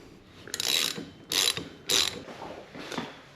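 A ratchet wrench loosens the front axle of a BMW F650GS Dakar motorcycle: four close, loud bursts of rapid ratcheting clicks, each lasting about half a second, with short pauses between them.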